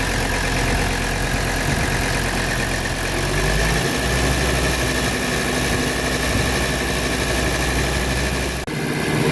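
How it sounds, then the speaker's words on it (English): A 1985 Mercedes 300D diesel engine runs steadily with its RPMs raised, a loud continuous rumbling drone close by that shifts lower partway through and dips briefly near the end, with no talking over it. "So we're just going to go ahead and give it some RPMs"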